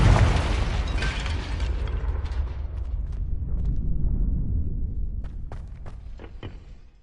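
A fiery Confringo spell blast in Hogwarts Legacy opens with a loud explosive burst, then a long rumbling roar that slowly fades, punctuated by a few sharp cracks and pops as it dies away.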